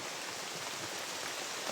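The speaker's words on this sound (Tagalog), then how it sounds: "nakakaabala itong ulan" Steady rain falls in a dense, even hiss, close and moderately loud, with no voices.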